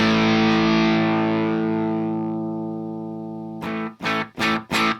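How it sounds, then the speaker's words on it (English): Electric guitar played through a software amp simulation in MainStage, giving a full, distorted tone: one long sustained chord rings out and slowly decays, followed by four short, punchy chord stabs, with no voices. "you can hear that I've got a very full sounding guitar sound,"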